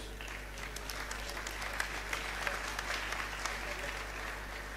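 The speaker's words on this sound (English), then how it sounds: "kindly join me in applauding these heroes" Audience applause at a university convocation ceremony, a steady dense wash of clapping from a large crowd in a hall, moderately loud and continuous throughout with a low hum beneath.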